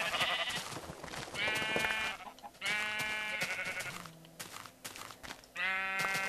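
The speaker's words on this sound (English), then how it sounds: "Oh, I see more sheep." Several sheep in the video game Minecraft bleat repeatedly, with loud, drawn-out calls coming in separate bursts, some overlapping and some with short pauses between them.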